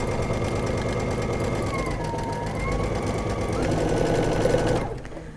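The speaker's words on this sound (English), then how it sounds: "So I'll sew this piece on." A sewing machine runs fast and steadily as it chain stitches quilt strips together, a close, rhythmic whirring hum that slows and stops near the end.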